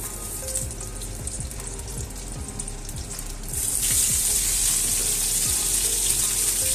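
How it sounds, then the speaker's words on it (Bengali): Cauliflower florets frying in white oil for a cauliflower roast, a soft steady sizzle with faint low clicks that swells noticeably louder and brighter about halfway through. "এবারে এই ফুলকপিগুলোকে আমি ভেজে নেব।"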